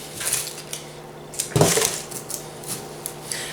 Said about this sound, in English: So I'm going to take a large yellow onion, cut off some of the gross parts.